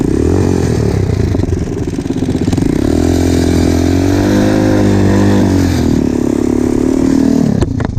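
A Loncin 250 motorcycle engine revs loudly and steadily up close on gravel, pitch swelling and falling, with gritty clatter and scraping underneath.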